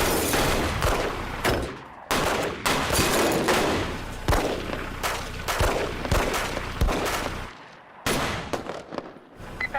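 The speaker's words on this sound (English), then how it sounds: "Code 33. Shots fired. Shots in the building." Gunshots fired inside a school building during a mass shooting, loud repeated bursts and volleys with echoing reverberation, several sharp cracks spread across the span amid chaotic noise, with brief gaps of near silence.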